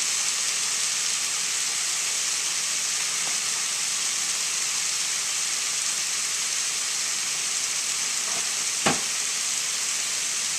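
Riced cauliflower and shrimp browning in a pan, a loud, continuous sizzle and crackling hiss with a few sharp stir clicks, no talk.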